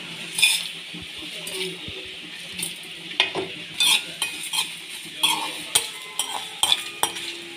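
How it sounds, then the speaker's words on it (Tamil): Whole spices for mutton liver fry are dry roasted in a pan, with irregular metallic clinks, rattles and spatula scrapes over a faint crackle, close by. "எல்லாத்தையும் போட்டு வறுத்துக்கலாம். ட்ரையாக வறுத்துக்கலாம்."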